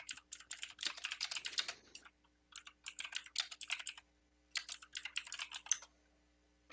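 Computer keyboard typing in bursts of rapid, close key clicks separated by short pauses, alone with no talk.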